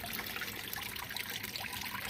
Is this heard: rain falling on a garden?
no